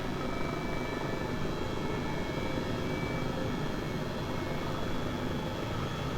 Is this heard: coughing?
no